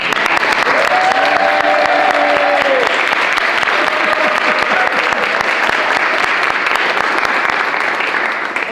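A room full of people at a governor's bill signing claps steadily and loudly for several seconds, a dense, even applause with a few faint voices mixed in.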